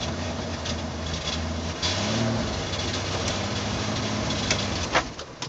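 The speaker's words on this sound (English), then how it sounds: "Keep revving it up." A new Jeep's engine revs with a steady, rough low drone while being driven, the pitch rising and falling slightly and sputtering, with a brief bump near the end; no voices.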